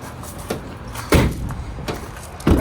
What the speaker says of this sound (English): Rear doors.